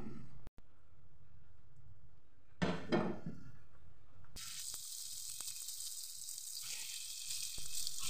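Coconut oil heating in a frying pan before fish is fried breaks into a bright, steady sizzle partway through, preceded by a few knocks and clatters, close and fairly quiet.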